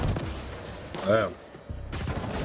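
Mortar fire and explosions in the video game The Ascent, a dense, booming barrage with a rising whistle in the middle, and heavy rumbling blasts before and after.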